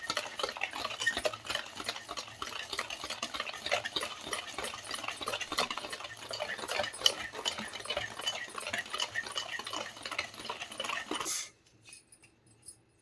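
A spoon stirs sugar into cake batter with continuous scraping and clinking against the bowl, close and moderately quiet, ending suddenly near the end.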